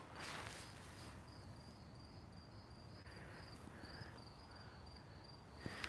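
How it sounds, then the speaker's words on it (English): Crickets chirp at night in a steady, high, pulsing trill that runs throughout, moderately faint against a soft background hiss. "I'm hearing crickets right now."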